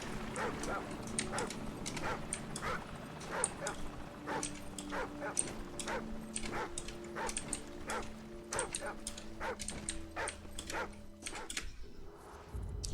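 A dog barking repeatedly in Call of Duty 4: Modern Warfare, a steady run of sharp yaps and yips over a low game drone and background tones, persisting for most of the stretch before cutting off near the end.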